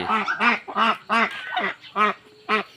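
A duck quacks repeatedly in a steady rhythm, about seven loud, close, nasal quacks in quick succession.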